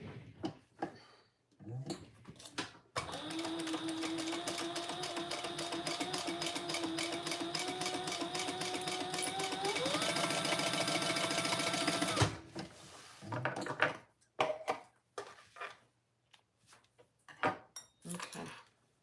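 A sewing machine runs a long continuous seam for about nine seconds, its motor humming steadily and speeding up partway through, framed by brief handling clicks and fabric rustle before and after.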